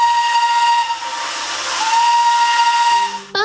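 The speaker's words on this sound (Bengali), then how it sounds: "পাহাড়ি আঁকাবাঁকা পথে ছুটে চলা টয় ট্রেন এর পুপু শব্দ।" A Darjeeling Himalayan toy train's steam locomotive whistle blows loud and steady for about three seconds amid heavy steam hiss, then cuts off into a brief higher squeal.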